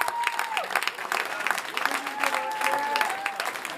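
Hackathon audience applauding the winning team at an award announcement, a lively continuous patter of clapping with voices and cheers mixed in throughout.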